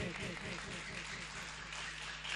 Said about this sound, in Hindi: भाई जोरदार तालियां हो जाए एक बार।